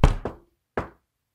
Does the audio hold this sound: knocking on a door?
yes